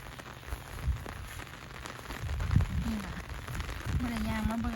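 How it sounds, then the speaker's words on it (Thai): Steady rain falling all day on a rural Thai homestead, an even hiss of drops spread across the scene, with a voice rising briefly at moments in the background. "หกโมงแล้ววันนี้ฝนลินทั้งวัน"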